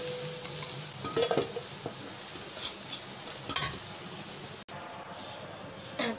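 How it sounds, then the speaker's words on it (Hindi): Jackfruit pieces frying in a pan for spicy kathal sabzi, a steady moderate sizzle with occasional stirring scrapes and clinks, briefly dropping out before resuming. "अब इसे हम इसी तरह से फ्राई कर लेंगे पाँच से छः मिनट के लिए"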